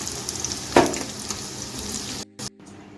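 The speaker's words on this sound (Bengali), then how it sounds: "এখন উল্টে পাল্টে পনিরগুলো ভেজে নিব" Paneer pieces frying in hot oil while being turned, a steady broadband sizzle with a brief louder burst of spatter near the start and a couple of sudden drop-outs toward the end.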